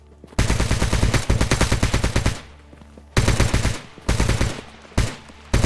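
Automatic weapon fire in the video game S.T.A.L.K.E.R. GAMMA, loud and close, coming in several sustained rapid bursts separated by short pauses, with no talking over it.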